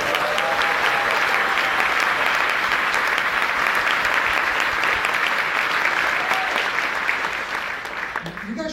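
Sustained applause from an audience honoring the crew, steady and dense for most of the stretch before tapering slightly at the end.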